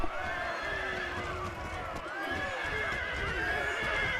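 A horse neighs repeatedly with rising and falling whinnies over a busy, continuous clatter of hooves and battle noise in the video game Empire: Total War (Darthmod).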